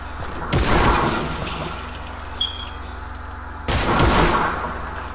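Two loud, sharp sniper rifle shots in a first-person video game, spaced about three seconds apart, each ringing out with a brief echoing tail over a low steady background hum.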